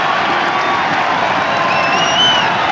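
A dense, loud crowd roars and cheers steadily throughout at a Gloucester versus Harlequins rugby match in 1990, with scattered whoops rising above the sustained noise.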